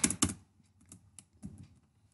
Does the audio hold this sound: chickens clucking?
no